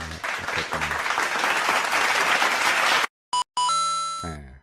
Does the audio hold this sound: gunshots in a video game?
no